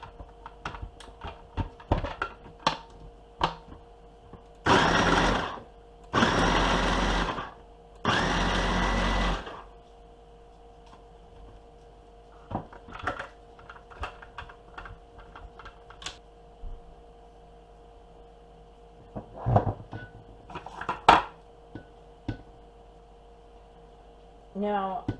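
A knife chops garlic on a cutting board in short, sharp knocks and taps scattered through the stretch, close by, interrupted by three loud bursts of a blender-like whirring.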